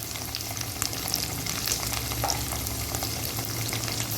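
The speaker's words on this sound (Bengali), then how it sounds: "নেড়ে চেড়ে ভেজে নেব" Potatoes stirred and frying in a pan with salt, a continuous close sizzle broken by scraping stirs throughout.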